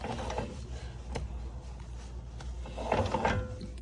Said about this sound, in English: as you can hear, this axle's pretty cooked